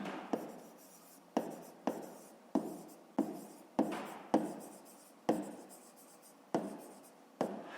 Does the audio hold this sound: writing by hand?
yes